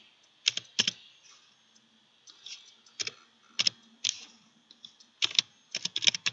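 Keys on a computer keyboard clatter in short irregular bursts, a quick cluster of close, crisp clicks separated by brief pauses and picking up into a denser flurry at the end; no voices.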